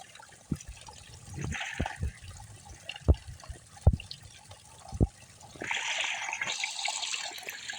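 Water trickles and dribbles at a trail water source along the Pacific Crest Trail, a soft continuous flow broken by several sharp close knocks, growing fuller near the end.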